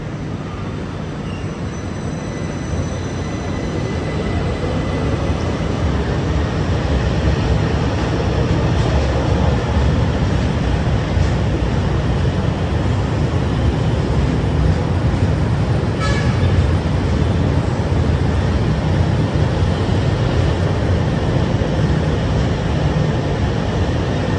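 A driverless LRT Jabodebek train of six cars departs toward Harjamukti, a steady loud rumble and hum of rail motion running throughout with no talk.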